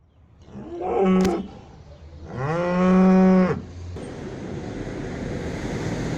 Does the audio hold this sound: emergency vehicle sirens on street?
no